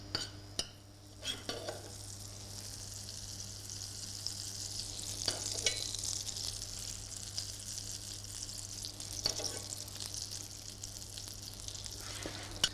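Prawns frying in butter in a pan, a soft, steady sizzle with occasional stirring clicks and scrapes, close but fairly quiet.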